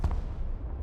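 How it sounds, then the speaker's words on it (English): Artillery firing in the military strategy video game Broken Arrow, a single deep distant boom with a short rumbling decay, heard alone. "Oh, they're firing artillery."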